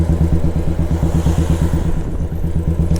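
A Yamaha RX135 two-stroke motorcycle engine roars loudly at full throttle, its fast, even firing pulses close and sustained with no talk over it.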